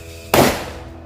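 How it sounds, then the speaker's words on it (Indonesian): A purple Happy Flower disco firecracker explodes at a New Year celebration in a single loud, close bang that decays into a short rumbling tail, with no talk. "Ini kita nyalain mercon Happy Flower yang warna ungu."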